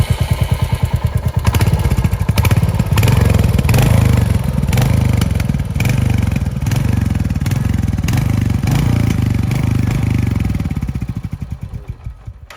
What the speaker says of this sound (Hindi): तो आपने सुना होगा इसका एग्जॉस्ट, आपने सुना होगा कि इतना छोटा एग्जॉस्ट